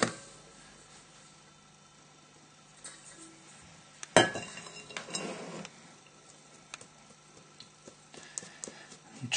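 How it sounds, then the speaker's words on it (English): Flour is sieved into a bowl while making naan bread, with a soft, scratchy shaking and a brief knock near the middle. A few light clatters of kitchenware follow, all fairly quiet. "just need to pop this into a sieve and sieve it into another bowl"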